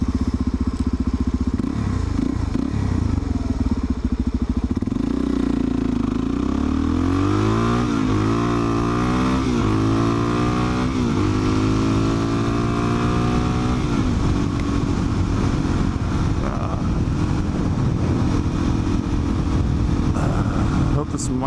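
A carbureted supermoto motorcycle rides along, its single-cylinder engine revving up and down through gears with rising and falling pitch over steady wind roar, close and loud throughout.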